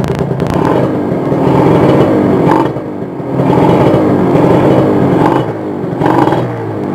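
Kawasaki Ninja R two-stroke motorcycle engine idling and being blipped with light throttle, rising into loud raspy revs in repeated waves, close by and alone.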